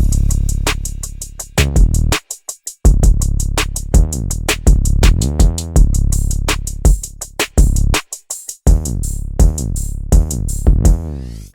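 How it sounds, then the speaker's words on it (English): A soloed trap-style pattern of a Cymatics 808 bass and drums programmed in FL Studio, with booming sliding 808 notes, crisp rapid hi-hats and punchy snares in a steady loop, briefly dropping out twice before returning loud and alone. "Let me solo the 808 and the drums."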